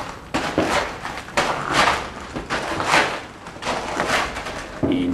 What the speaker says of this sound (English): walks slowly up the gravel path to the mansion